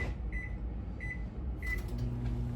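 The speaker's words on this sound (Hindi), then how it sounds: "माइक्रोवेव करेंगे, 6 मिनट के लिए" A microwave oven set for six minutes to cook egg whites with vegetables gives a steady low hum, and three short, evenly spaced beeps sound over it.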